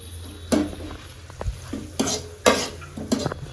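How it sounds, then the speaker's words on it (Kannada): Tempering spices sizzle in a pan on a home stove, a faint steady fry under repeated loud scraping and clanking stirs of a spoon against the pan, about five distinct strokes. "ಈ ಕಡೆ ಒಗ್ಗರಣೆ ರೆಡಿ ಆಗ್ತಿದೆ"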